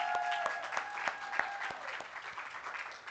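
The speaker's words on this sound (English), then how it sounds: "Give her a round of applause." A small crowd at an outdoor holiday market press preview gives a round of applause, a brief, fairly distant patter of clapping that slowly tapers off.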